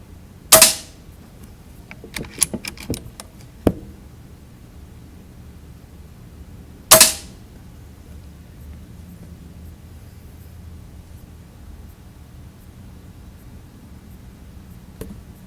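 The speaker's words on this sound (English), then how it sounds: "this 25 caliber flash, Hudson flash, very, very accurate" A .25 caliber Hudson Flash air rifle fires two sharp, loud shots several seconds apart, each a crisp crack, with light handling clicks between them in an otherwise quiet setting.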